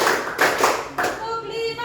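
A classroom of students claps hands in quick bursts to a counted rhythm game led by a teacher, the sharp collective claps arriving in a few loud clusters while the teacher's voice speaks between and over them.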